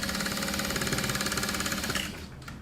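Sewing machine basting with a long stitch length close to the fabric edge while making a handbag, running in a fast, steady mechanical chatter for about two seconds before slowing and stopping.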